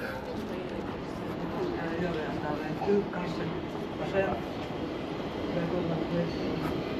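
A rumbling southbound metro train rolls into Farsta station with a steady low roar and faint clatter, while people talk in the background.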